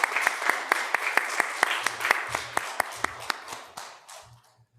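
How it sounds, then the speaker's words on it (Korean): A church congregation at a Korean Sunday service in Bloomington applauds in welcome, steady sharp hand claps that gradually thin out and fade, with a few voices beneath. "박수로 환영하겠습니다"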